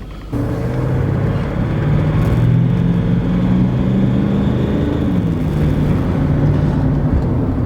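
A Range Rover with a fault being taken for a short test drive, its engine droning steadily and rising slightly in pitch as it accelerates, heard from inside the cabin with road rumble and no talking.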